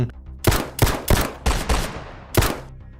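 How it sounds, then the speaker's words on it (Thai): A rapid exchange of loud gunshots, several sharp cracks in quick succession with reverberating tails, then a pause before one more shot. "เสียงปืนจากทั้งสองฝั่งกระหน่ำยิงกันดังสนั่นกึกก้องไปทั่วบริเวณ"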